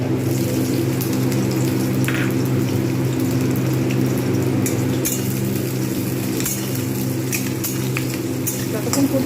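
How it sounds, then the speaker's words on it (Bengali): Chopped onions fry in oil in a pan for a chicken curry with papaya and potatoes, giving a continuous, even sizzle over a low steady hum, with a few brief clinks. "পেঁয়াজ কিন্তু খুব ভালোভাবে ভাজতে হবে। এইবার আমি এতে দেবো কুচনো পেঁয়াজ।"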